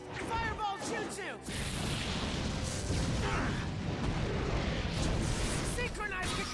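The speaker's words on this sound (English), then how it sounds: "Fire style! Fireball jutsu!" A fiery jutsu blast in the Naruto Shippuden Ultimate Ninja Storm 4 video game: a sustained loud roaring, crackling burst that swells after a brief opening and rumbles on steadily, with a shouting voice over the start.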